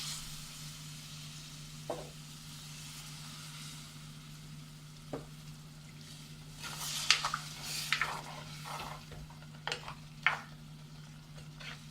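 Cooked beef broth is poured into a pan of tomato masala for beef vindaloo, giving a quiet steady sizzle with a low hum beneath and a few soft stirring scrapes and splashes toward the end.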